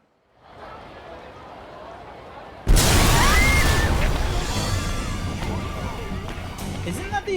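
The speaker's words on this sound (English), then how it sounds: "Isn't that the explosion from the first Yakuza game?" A big video-game explosion in a Yakuza game bursts in suddenly and loudly, then trails off into a long rumbling, crackling decay with scattered debris sounds.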